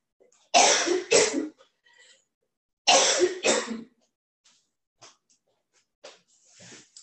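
A person coughs off camera, two hard double bursts a couple of seconds apart, fairly close, followed by quieter throat sounds and breaths; the person has been recovering from a respiratory illness.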